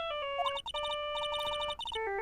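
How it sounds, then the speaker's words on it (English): Electronic telephone ring in Phoenix Wright: Ace Attorney, a bright synthesized warbling tone repeating in quick bursts, loud and close with no voices over it. "All of a sudden the phone began to ring."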